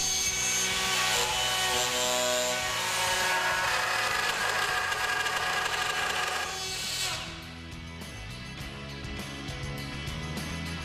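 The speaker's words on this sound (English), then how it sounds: "Having drilled the hole" A power drill bores a hole for an invisible hinge through a drilling template, giving a steady whirring grind that stops partway through, leaving a quieter hum.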